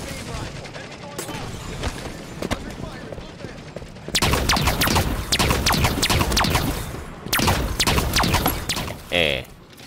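Rapid bursts of light rifle fire in a Halo 5 match, loud and dense through the middle, with clusters of sharp shots and a brief different blast near the end.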